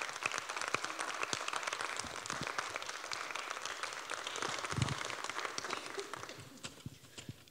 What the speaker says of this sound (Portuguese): já podem bater palmas